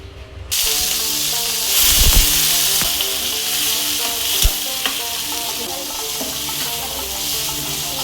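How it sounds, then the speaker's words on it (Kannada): Brinjal masala cooking in a pan, hot oil frying and sizzling steadily for several seconds with a few clinks and stirring scrapes; no voices. "ಈಗ ಎಣ್ಣೆ ಒಳಗೆ ಫ್ರೈ ಮಾಡ್ಕೊಂಡಿನಿ. ಚೆನ್ನಾಗಿ ಫ್ರೈ ಮಾಡಬೇಕಿದು 1-2 ನಿಮಿಷ."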